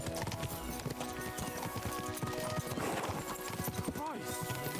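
Horses gallop in Kingdom Come: Deliverance II, hooves pounding in a fast, steady clip-clop rhythm under music and a brief whinny.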